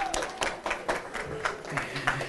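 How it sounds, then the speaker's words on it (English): Audience applause greets a guest from the Irish Defence Forces coming on stage at a college and career expo talk, with a steady patter of clapping hands from a moderate-sized crowd. "So can we give him a big clap, welcome him onto stage?"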